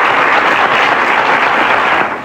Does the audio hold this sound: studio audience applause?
yes